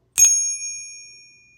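A silver coin struck in a pocket pinger coin tester gives one sharp metallic ping. It rings with a clear, high, bell-like tone and fades slowly over more than a second in a quiet room.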